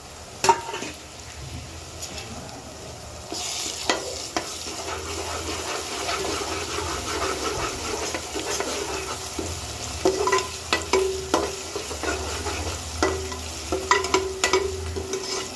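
Ingredients for a liver fry sizzling in a pan while being stirred, a steady soft frying hiss with intermittent scraping and clinking of a spoon against the pan, close and alone without speech.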